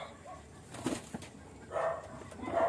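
Pet pigeons in a loft make soft, close bursts of wing flapping with faint cooing, two or three brief flurries against a quiet background.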